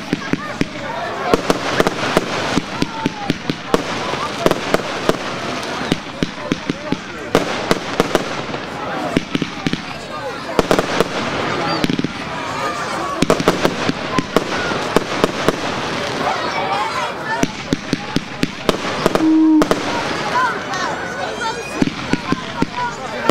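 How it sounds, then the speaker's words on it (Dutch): A Stingray 50-shot consumer fireworks cake fires a dense, rapid string of loud cracking bursts for over twenty seconds, with voices underneath. "We gaan nu echt door naar de Stingray 50 shots."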